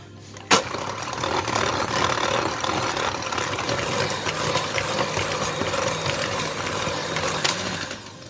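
Electric mixer whirring steadily as it beats almond frangipane batter for mini galettes des rois, a continuous buzzing drone that runs unbroken the whole time after a sharp click at the start.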